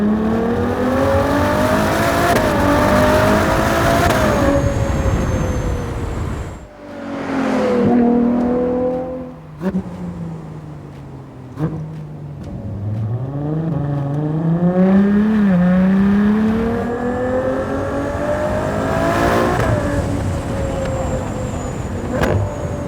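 An 810 hp Ferrari Monza V12 idles, reverses and then pulls away, its engine revving loudly and rising in pitch through repeated throttle blips and gear changes, close by, with occasional talk inside the cabin.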